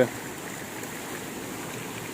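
A natural stream flows through a forest, a steady, even rush of water close by, continuous and unbroken throughout.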